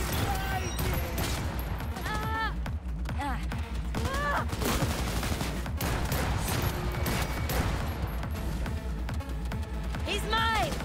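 Rapid, dense gunfire in a Cyberpunk 2077 street fight, sharp shots cracking continuously close by with someone talking and shouting over the shooting.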